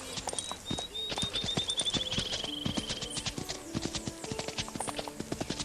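Horse hooves clip-clopping steadily and close during obstacle training, irregular footfalls over ground with a faint whistle-like tone early on and no talk.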